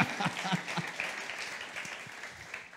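A stand-up comedy audience applauds and claps in a dense wash that starts strong and slowly fades, while a voice speaks over it.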